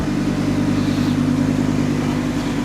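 Audi R8 V10+ engine and exhaust in sport mode, a steady loud idle with a deep muffled rumble holding constant for the whole stretch, no revving peaks and no talking.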